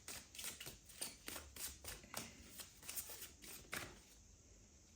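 A deck of cards being shuffled for a card reading, a rapid series of crisp riffling flicks and soft slaps, close and fairly quiet, with no voices.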